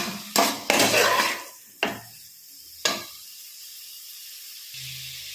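A spoon stirring mushroom biryani ingredients in a cooking pot makes a few sharp metal scrapes and clanks over a soft sizzle, then the pot goes quiet apart from a faint hiss.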